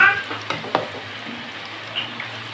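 Gram flour namak pare frying in oil, a soft continuous sizzle with a couple of brief utensil knocks early on, moderately close and fairly quiet, no voices.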